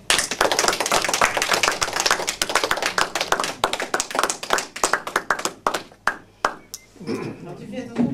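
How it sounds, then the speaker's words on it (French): Audience applause for a singer at a French variety show, dense clapping from a crowd that thins into scattered individual claps before fading, with talk coming in at the end. "Nous applaudirons spontanément, simplement parce que nous aimons les chansons qu'elle nous présente."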